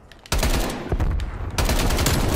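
Loud, close gunfire in the shooter game Black Ops Cold War erupts after a quiet start, with dense overlapping blasts and a second heavy burst near the end, and no talking over it.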